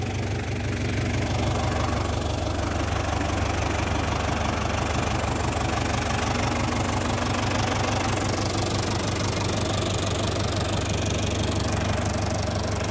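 A Renault 651 tractor engine idles steadily up close, a loud, even low rumble with a fast knocking pulse running unbroken throughout, no voices over it.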